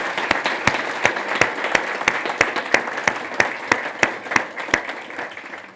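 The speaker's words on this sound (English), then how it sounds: "Can we have a last round of applause for Håkan?" Conference audience giving a speaker a final round of applause at a built-environment decarbonisation event, a full, even clatter of many hands with crisp individual claps punctuating it, fairly loud and sustained throughout.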